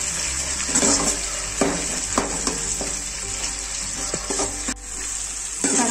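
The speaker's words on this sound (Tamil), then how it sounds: "இப்போ நல்லா வதக்கிக்கலாம்." Chopped onion and tomato sauté in a hot pan, sizzling steadily with intermittent scraping stirs and clinks of a spoon against the pan throughout, no voices.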